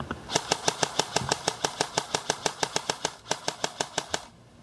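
A Lonex Titan A1 airsoft gun fires a rapid burst of about twenty sharp, evenly spaced shots with a mechanical gearbox clatter, up close, then stops abruptly.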